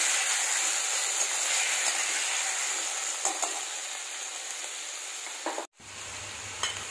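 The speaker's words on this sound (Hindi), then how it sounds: "अब इसमें हम टमाटरों को डाल देंगे।" Tomatoes frying in a pan for a sweet-and-sour tomato chutney, a loud, dense sizzle with stirring scrapes that cuts off abruptly near the end, leaving only a faint low hum.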